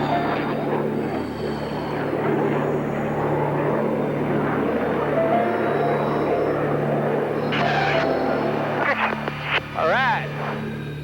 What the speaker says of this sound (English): In order to demonstrate the tactical roll rate of these F-18 Hornets, our two solo pilots crossing over center point will execute a series of maximum stick deflection horizontal rolls.